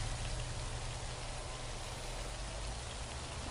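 Steady rain from the Prison Architect video game hisses evenly and continuously throughout, with no voices over it.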